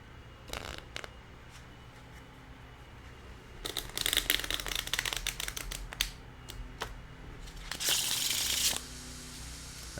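KEM Arrow wide playing cards, a soft deck, being riffle shuffled: scattered card snaps, then a dense fluttering burst of cards riffling together and a bridging whir near the end, close and fairly quiet, no talking.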